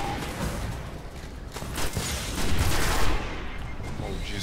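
Weapon fire in the Destiny video game on PlayStation 4 rattles in a dense, continuous stream of rapid shots at steady loudness for several seconds.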